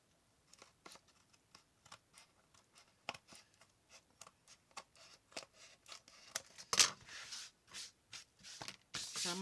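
Paper for a journal cover is trimmed with close, irregular snipping and rustling, the cuts growing louder and denser toward the end.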